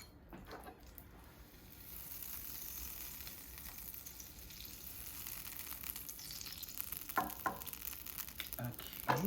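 Butter sizzles in a pan on medium-high heat, a quiet, continuous frying hiss close by with scattered small crackles and pops growing slightly busier over time.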